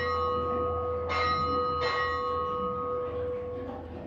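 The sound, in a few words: ship's bell striking four bells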